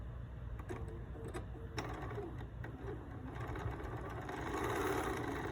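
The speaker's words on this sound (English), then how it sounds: "I have one more little corner to sew," A Bernina sewing machine stitches the corner of a pillow, a steady close mechanical whirr that runs without pause and swells slightly louder toward the end.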